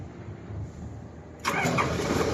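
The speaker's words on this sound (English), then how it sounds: "Now I will start the machine." A Komatsu forklift engine cranks and catches while left in forward gear, a quiet lead-in giving way to a sudden broadband roar at about 1.5 seconds that settles into a steady running rumble, close and fairly loud.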